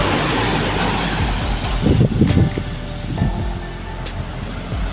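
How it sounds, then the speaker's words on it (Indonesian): A palm oil truck passes on a busy Jalan Lintas road, its engine swelling to a loud low rumble around the middle and then fading, with other traffic noise around it. "Nih ada truk sawit lur"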